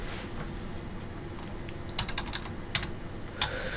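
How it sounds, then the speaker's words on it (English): Keys clatter on a computer keyboard as a web address is typed into a browser's address bar, with quiet scattered keystrokes building to a few sharper clustered taps, heard alone with no talking. "Then type in the following URL to access Wrapstream."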